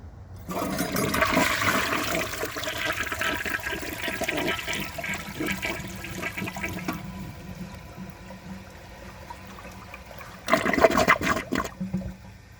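A 1987 Kilgore Aladdin toilet flushes with a dry bowl, a rushing, gurgling drain for several seconds, fading to a quieter trickle, then a brief louder surge of water near the end.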